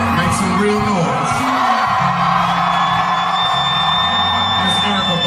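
A stand-up comedy crowd at a Dave Chappelle show cheers, yells and whoops loudly and continuously. The roar stays dense for the whole stretch, with voices rising and falling throughout.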